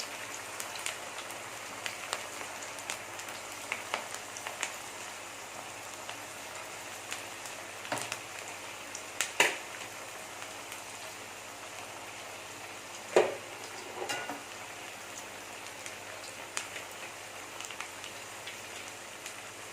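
Maggi vadai fry in hot oil kept at medium heat, giving a steady, close crackling hiss broken by occasional sharper pops and spits.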